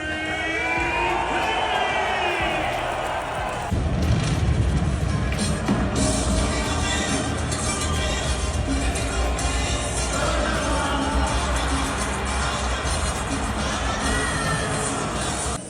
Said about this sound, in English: The crowd was amazing.